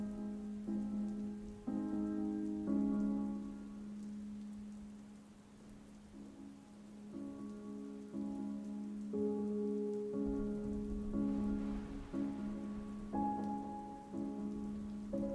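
Steady storm rain patters on surfaces throughout, heavy and continuous, with occasional low rumbles beneath. A tonal, music-like hum runs underneath the downpour, and no one speaks.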